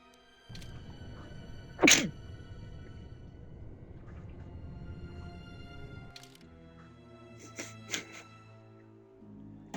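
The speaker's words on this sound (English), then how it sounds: "I think I just sneezed here" A single sharp sneeze bursts out loudly from a person during a Star Wars KOTOR 2 playthrough session, standing out against quiet game sounds, with a couple of fainter clicks following later.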